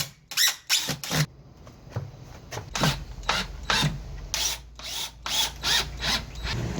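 A drill with a square bit drives screws into cedar in repeated short whirring bursts, close and loud, with brief pauses between each screw.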